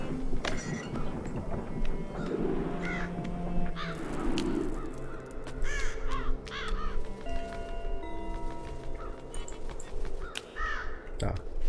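Crows caw repeatedly in the Child of Light video game, sounding in short harsh bursts over background game music while someone talks throughout.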